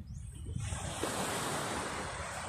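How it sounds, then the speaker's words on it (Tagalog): Ocean surf washes onto the shore in a steady, loud roar of breaking water with a wind-like hiss, no voices. "nasa tabing dagat pa rin tayo"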